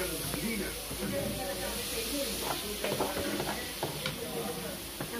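Ground pork and bottle gourd sautéing in a pan, a continuous hiss and sizzle with scraping stirs, close up, under someone talking.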